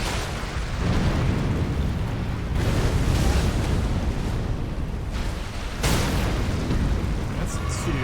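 Rumbling fire attacks from Furnace Golems in Elden Ring: Shadow of the Erdtree, a dense, loud roar of booming bursts with sharp surges near the start, around two and a half seconds and just before six seconds, with a voice talking over it.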